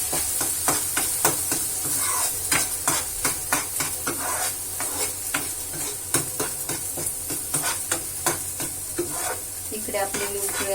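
Semolina for a sweet fasting shira is sautéed on low heat in a pan, a soft sizzle running under rapid, regular scrapes and taps of a spoon stirring close up throughout.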